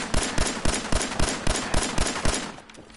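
Gunfire aimed at a bridge in Fallout 4, about ten loud, evenly spaced shots in a steady rhythm that stop just before the end.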